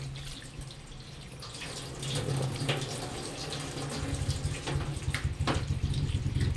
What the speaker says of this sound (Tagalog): Wonder ko lang hugasan yung takip para walang alikabok